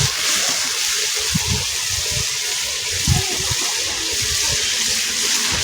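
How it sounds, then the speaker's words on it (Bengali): Water poured into a curry pan of spiced rohu fish with ash gourd, a loud close gushing splash that lasts throughout. "তারপরে একটু পানি দিয়ে দিন"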